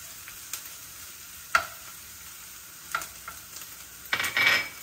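Onions and ginger frying in oil in a pan for pesarattu upma, a soft continuous sizzle broken by a few sharp spoon taps and stirring scrapes, ending in a louder burst of sizzling as the pan is stirred.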